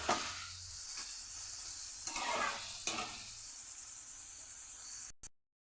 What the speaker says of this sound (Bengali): এবার লো হিটে এটাকে 10 মিনিট এরকমভাবে ভাজবো।